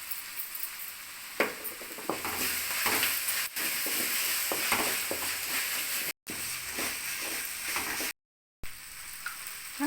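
Onions with ginger garlic paste fry in a pan for a quail pepper fry, with a continuous loud sizzle and hiss broken by occasional scraping stirs and two brief dropouts.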